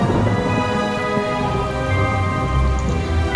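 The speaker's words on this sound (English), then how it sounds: "Suddenly, it began to rain." Rain falls heavily and continuously in a loud, dense patter, with a steady tonal hum running underneath.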